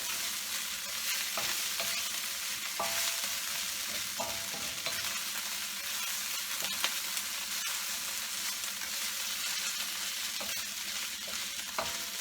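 Fried fish with sauteed onions, jalapeno and salt sizzles steadily in a hot pan, with a continuous hiss broken by soft scraping and tossing clatters as the pieces are stirred.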